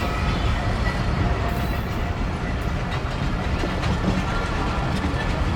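Millat Express passenger train running in Pakistan, a steady loud rumble of wheels on the rails with faint clickety-clack throughout, heard from inside the carriage and unbroken by talk.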